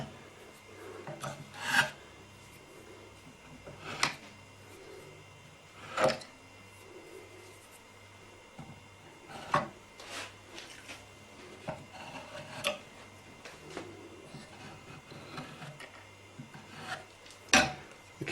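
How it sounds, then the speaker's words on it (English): A steel chisel scrapes squeezed-out glue along a wooden stick dulcimer joint in a workshop, giving a series of short rasping strokes at irregular intervals, each a brief scrape followed by quieter handling. "To clean up the glue that was squeezed out, we can use a chisel and just scrape it along."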